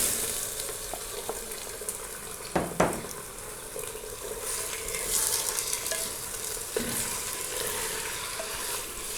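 Chicken pieces frying with softened onions in oil in a handi, a steady close sizzle with a few sharp stirring scrapes and clatters partway through, no voices.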